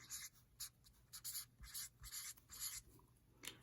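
Pen writing on a paper cash envelope, close and quiet, in bursts of scratchy strokes with brief pauses between words, no talking.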